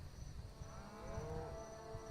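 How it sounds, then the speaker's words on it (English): Cattle mooing in a video game, a faint, drawn-out low bellow resting quietly over steady background ambience, with no talking. "Moo, I heard some cows."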